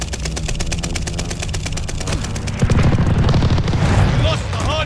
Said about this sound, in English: Hostiles are strafing us.